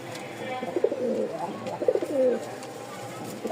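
Pigeons coo nearby in soft, rolling bursts, two main phrases with brief pauses between, fairly loud and close.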